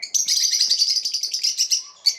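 Small pet birds, one of about sixty lovebirds, chirp in a new cage with rapid, bright, continuous tweeting close by. No voices are heard.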